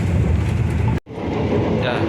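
Steady rumble and rattle inside a moving KA Majapahit New Generation economy passenger train, a continuous loud low roar of wheels and carriage noise with a brief dropout midway, then resuming with faint squeaks.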